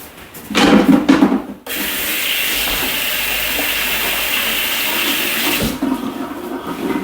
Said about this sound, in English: I'm just going to wash my hands now.